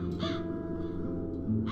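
Crows caw in the video game The Dark Eye: Chains of Satinav, with a harsh call at the start and another at the end over a low, steady ambient drone.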